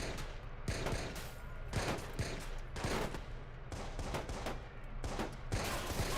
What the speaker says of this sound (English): But I shot his legs!